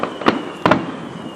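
Fireworks bursting outdoors at an early Fourth of July celebration: two sharp, loud explosive cracks about half a second apart, each trailing off into a rumbling decay over steady background noise.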